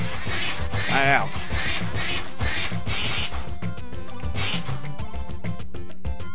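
Cartoonish duck quacks sound in quick bursts amid busy, noisy video game effects and music-like tones, fairly loud and close, in Curse of the Chocolate Fountain as ducks are killed with a katana.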